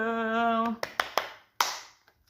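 A few sharp hand claps, four or five close single claps in an uneven rhythm, following a sung or hummed tone with no speech over them.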